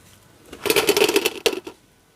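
Crisp crunching and rattling of freshly fried potato snacks, a quick burst of brittle crackles lasting about a second, a short pause, then a brief final crunch, close and fairly loud.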